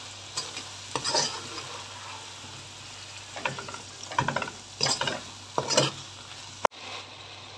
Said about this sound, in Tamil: இப்போ இது டொமேட்டோஸ் நல்லா குக்காக இருக்குது, ஹாஃப் குக்காக இருக்குது.